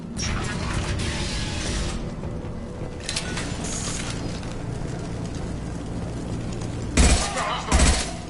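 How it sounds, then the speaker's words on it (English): Dense, continuous gunfire from Blue Suns mercenaries and Vorcha in Mass Effect 2 rattles steadily through the whole stretch, with two heavier bursts near the end and a constant layer of game noise beneath. "The Blue Suns and Vorcha are shooting anything that moves."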